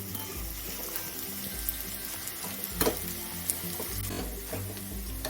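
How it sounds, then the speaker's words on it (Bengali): Chopped onions fry in a pan for thor cutlets, giving a soft, steady sizzle with occasional scraping stirs and light clinks, close and moderate in level, no one speaking. "দুটো কুচিয়ে রাখা পেঁয়াজ দিয়ে দিলাম, হালকা লাল করে ভেজে নেব।"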